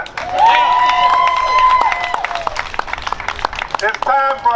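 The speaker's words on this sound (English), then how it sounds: "Go ahead and cheer for that." Rally crowd cheering and clapping loudly throughout, with a sustained high whoop standing out early and scattered shouts, no speech over it.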